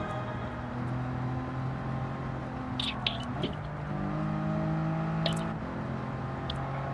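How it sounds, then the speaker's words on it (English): A car engine with a high-RPM supercharger in the Gran Turismo 7 racing game, a steady droning whine with shifting tones and a few sharp higher blips partway through. "Because I'm running the high RPM supercharger."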